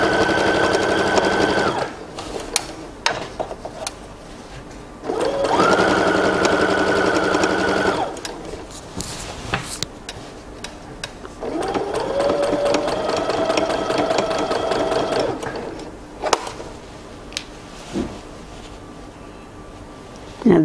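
A sewing machine runs loud and close in three long bursts as it stitches the side seams of fabric drawstring pants, with pauses between bursts filled by fabric handling and small clicks.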